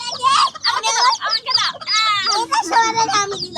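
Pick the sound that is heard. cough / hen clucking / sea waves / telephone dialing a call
hen clucking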